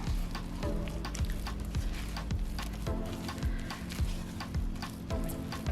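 A spatula stirs thick pancake batter in a bowl, rhythmic wet scraping and slapping strokes repeating about twice a second, close and steady with no talking.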